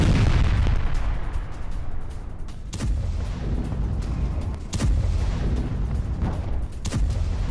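Russian artillery pounding Ukrainian mortar positions: repeated heavy booms at about 3 and 5 seconds over a constant roar of distant firing and rumble, loud throughout with no talk.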